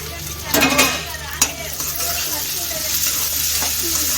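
Onions are stirred into a mixture cooking in a pan, with a steady frying sizzle, a few scrapes and knocks of the spoon near the start, and a faint voice in the background.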